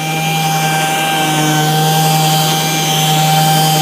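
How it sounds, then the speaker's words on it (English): A power sander works flat across an MDF panel being prepped for a high-gloss finish, producing a loud, steady whir with a constant hum and no pauses. "we're just going to keep that sander nice and flat"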